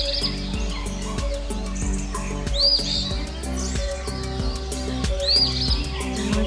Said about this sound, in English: To the sounds of the birds.